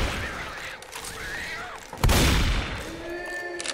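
Auto shotgun blasts in Left 4 Dead 2 during the Dark Carnival Concert campaign, a heavy boom roughly midway amid game noise, whooshes and other chaotic combat sounds, with a player speaking over it.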